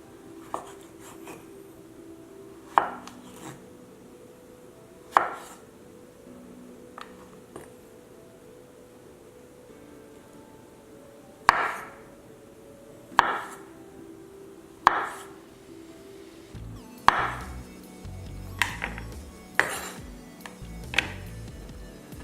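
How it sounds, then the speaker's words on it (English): A knife thinly slicing food on a cutting board, making a run of sharp, evenly spaced chops and taps that grow quicker toward the end, close and clear over quiet background, with no talking. "Then we're going to thinly slice."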